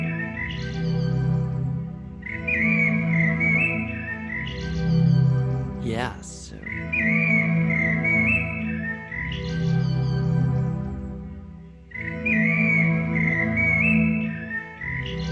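A long piece built from slowed blackbird song plays as repeating low, stretched warbling phrases with whistle-like tones, heard steadily under a speaking voice.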